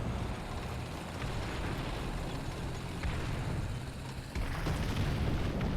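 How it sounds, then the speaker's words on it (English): Incoming artillery shells exploding in the tank battle game War Thunder, low rumbling booms rolling under steady engine-like noise, fairly faint, with a heavier blast near the end. "Lots of artillery coming in though."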